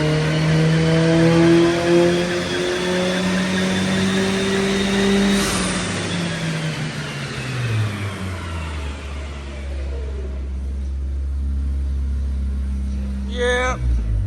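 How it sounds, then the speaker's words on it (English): A supercharged Mazda 3 engine revving on a dyno during a dyno day, a loud sustained engine pull with rising and falling tone, then settling into a steady low rumble. "You got my supercharged Mazda 3. Brian's Turbo 3. He already went on a dyno"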